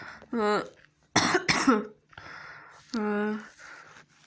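A person coughs in a tight burst of two or three harsh, close coughs, framed by short voiced throat sounds before and after.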